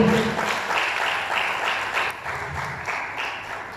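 A crowd applauds steadily, a dense wash of many hands clapping that gradually fades a little over a few seconds.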